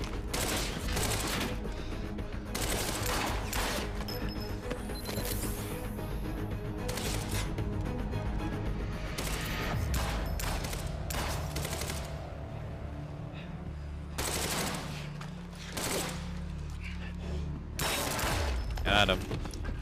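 Gunfire from a shooter video game: dense, near-continuous bursts of bullet shots and clattering mechanical effects over twenty seconds, loud throughout, with a person talking over the top.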